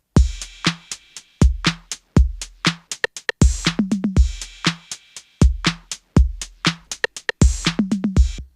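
An 808 drum kit in Ableton played through a lo-fi effects rack with saturator and compressor, sounding louder, punchier and crunchier, with booming kicks and gritty snares and hats in a steady repeating pattern.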